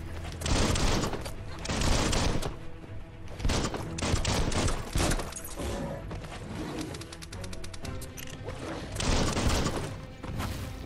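Gunfire from the player's gun in the video game Biomutant comes as loud, dense bursts of shots that recur several times over a busy bed of game sound effects.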